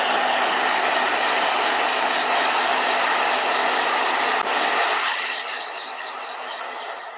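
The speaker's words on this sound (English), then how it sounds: "blow dryer." A blow dryer runs loudly and steadily with a broad airy roar, then its pitch drops and the sound fades slightly toward the end.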